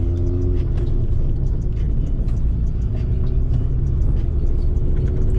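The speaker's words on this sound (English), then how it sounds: "I'm gonna try and mainly just get some car sounds for you." Low, rumbling engine noise from inside a moving car, steady and continuous with faint rattles.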